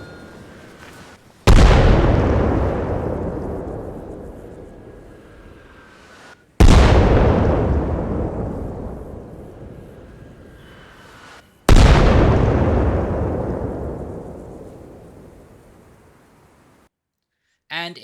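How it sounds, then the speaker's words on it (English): Three heavy mortar strikes explode in ARMA Reforger, each a sudden loud boom followed by a long rumbling decay that fades over several seconds before the next impact. "You can go from everything from a single round to massive large scale mortar strikes."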